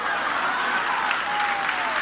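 A church audience applauds steadily, a dense, even clapping from many hands throughout, with a faint tone running beneath.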